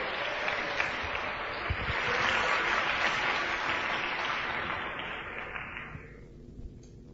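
A church congregation breaks into sustained applause, dense clapping that builds, holds for several seconds and then fades out, with scattered voices beneath.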